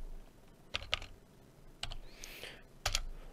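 Close computer keyboard typing a variable name, a few quick clusters of clicky keystrokes separated by short pauses against a quiet room.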